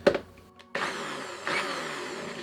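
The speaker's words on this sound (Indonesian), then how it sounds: "kalau menggunakan blender NutriBullet agak ribet seperti ini" A NutriBullet blender whirs through basil pesto in short bursts, starting after a few clunks with a loud motor whine that climbs briefly partway through and keeps running to the end.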